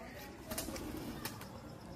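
Pigeons on a rooftop in Tarn Taran, Punjab, giving faint, distant flutters and soft bird sounds over a steady background hiss, with a few brief bursts of wing movement.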